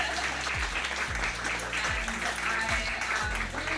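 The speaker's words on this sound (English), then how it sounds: "So please, a big round of applause to our amazing" An audience at Expo 2020 Dubai applauds, steady clapping and crowd noise over repeated pulsing bass drops from music, loud and continuous.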